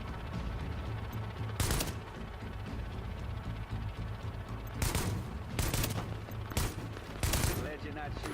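Gunfire in The Division, a sniper engagement: repeated loud bursts of shots, one near the start and a cluster of four close bursts toward the end, over a steady in-game background rumble with voices.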